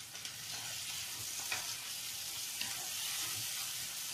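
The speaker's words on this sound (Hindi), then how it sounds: "अब इसी में हम ये टमाटर जो लिए हैं इसको भी इसी में डाल" Tomatoes tipped into a pan of partly cooked frying vegetables for red sauce pasta, giving a steady close sizzle and crackle with a few soft stirring bumps, no voices.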